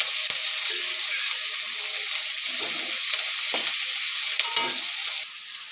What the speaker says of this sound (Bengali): এগুলো হালকা ভেজে নেব।